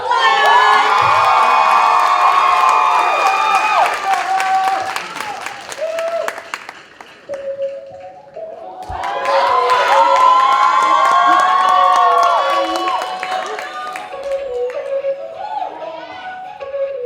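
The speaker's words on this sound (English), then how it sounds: "give a round of applause to Dominican Republic!" A crowd of spectators at a university Latino pageant event bursts into loud applause, cheering and whooping, fading briefly and then surging again, with shouts rising over the clapping.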